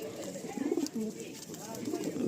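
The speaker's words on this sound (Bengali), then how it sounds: "এই পায়রাটা দেখুন, ব্লু চোচ ব্লু পট্টি নিয়ে" Nazra kaldom long-size pigeons, one with a blue beak and blue markings, coo in low, soft, rolling murmurs that swell and fade steadily over a faint background hiss, close by.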